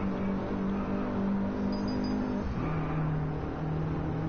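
A car's engine note rises under acceleration in the DriveClub racing video game, a steady close motor tone that climbs and then shifts after a gear change, with no talking.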